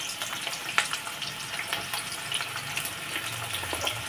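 Oil heating in a pan for frying onions for chicken biryani, soft crackling sizzle with scattered pops, faint and steady.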